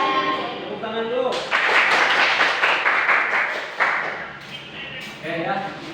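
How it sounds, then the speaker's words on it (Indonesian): A classroom of tenth-grade students bursts into clapping right after singing together, the sharp, busy claps rising loudly and then tapering off, with voices mixed in. "Tepuk tangan dulu."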